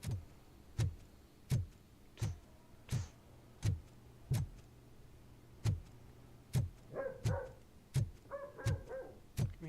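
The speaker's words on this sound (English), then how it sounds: "Can hear some puppies." Dogs bark in the video game Robocop Rogue City, a steady series of about fifteen sharp, evenly spaced barks at moderate distance, with a faint ticking and some brief tonal noises late in the sequence.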